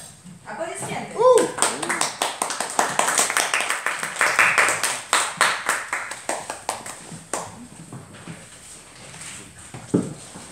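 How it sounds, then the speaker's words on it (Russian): Audience applause after a performance by a small music group: a crisp, fairly rhythmic clapping rises, holds for several seconds and then thins to scattered claps, with voices heard over it. "Аплодисменты."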